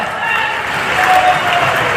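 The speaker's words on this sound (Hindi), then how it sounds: "ताली वाली बजा के बताओ" Audience at a political rally in Orchha applauding, a dense wash of clapping that swells slightly midway, with crowd noise mixed in.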